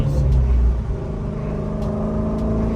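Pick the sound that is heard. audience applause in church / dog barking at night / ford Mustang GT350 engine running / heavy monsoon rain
ford Mustang GT350 engine running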